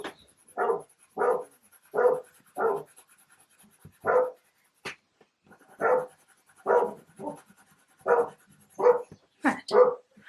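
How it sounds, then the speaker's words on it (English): A neighbour's dog barks next door in a rapid string of about a dozen sharp woofs, grouped in short bursts with brief pauses, clearly audible in an otherwise quiet room and with no talking. "You might be able to hear next door's dog barking."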